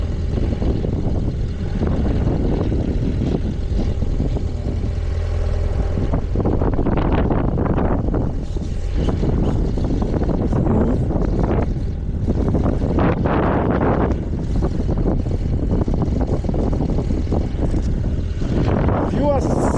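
Constant roar of wind buffeting the microphone while riding a motorcycle on a road from Maseru to Semonkong in Lesotho, loud and unbroken with the engine drone blended in.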